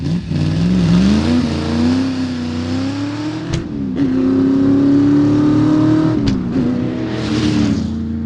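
A 1960s Ford Mustang GT350 fastback with a 300-horsepower V8 and 4-speed manual revs hard, its loud engine note climbing and holding across several seconds, broken by two sharp gear-change gaps, with no talking.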